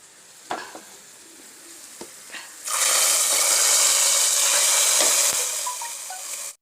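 Browned onions hit the hot oil in a kadai with a sudden loud sizzle that holds for several seconds and then eases off, after a few light scrapes of stirring at the start.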